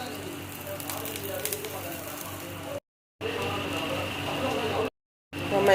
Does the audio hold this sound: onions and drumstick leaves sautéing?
yes